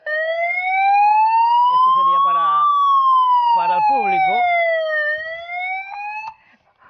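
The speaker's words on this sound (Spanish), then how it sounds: "esa es la sirena que tienen que llevar todo vehículo de seguridad" A rally safety car's siren wails steadily, rising and falling slowly in pitch, loud and close, while someone speaks over it.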